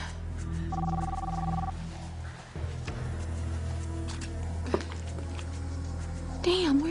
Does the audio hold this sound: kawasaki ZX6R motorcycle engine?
no